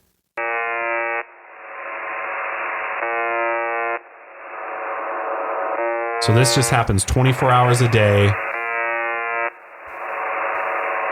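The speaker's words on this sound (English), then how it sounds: "it's just this loop of this buzzer sound" Looping UVB-76 shortwave radio buzzer, a harsh steady tone repeating in bursts of roughly one to three seconds with brief gaps, over an always-open mic with background noise; a burst of noisy interference cuts in midway and someone talks.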